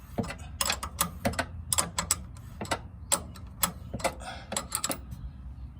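Ratchet clicking as a bolt is tightened on a 4th-gen Toyota 4Runner rear lift kit install, a steady run of close, sharp ratcheting strokes in quick rhythmic bursts.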